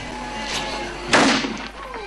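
A ceremonial cannon fires once at an outdoor bacon-roasting record attempt at a harvest festival in Emőd, Hungary, a single loud boom and rumbling decay over background music and crowd noise.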